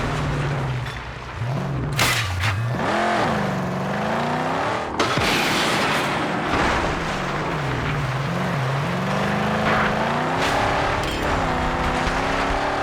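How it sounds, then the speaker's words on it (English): A car engine in the Mad Max video game revs and surges continuously, its pitch climbing and dropping through gear changes, loud and close, with a sharp impact partway through and no talking. "I know how this game loves to rev up its engine sounds."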